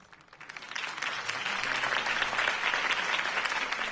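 A crowd in the video game Batman: The Telltale Series breaks into steady applause that swells within the first second and holds at an even level, many hands clapping at a distance.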